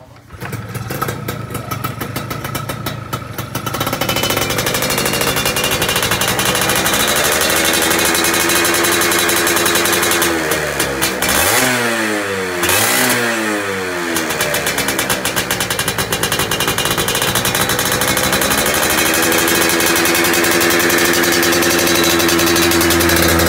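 A two-stroke Yamaha F1ZR motorcycle engine starts and runs loudly, revving up and down with a rattly, buzzing tone, close by and continuous.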